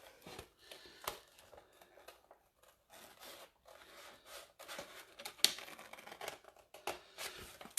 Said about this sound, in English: I'm just gonna go ahead and cut that out too.